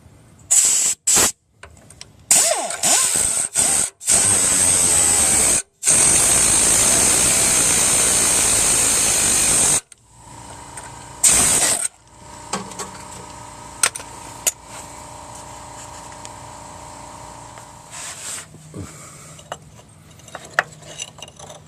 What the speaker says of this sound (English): I'm just going to cut through these parking brake cables here and get them out of the way